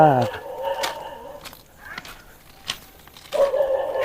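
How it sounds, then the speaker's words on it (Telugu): A dog barks a few short times at a distance while people talk nearby. "కుక్క"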